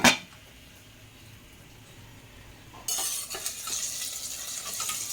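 Chopped onions sauté in a pan for a mutton gravy: a faint hiss at first, then a louder, steady sizzle with stirring scrapes and clinks near the end.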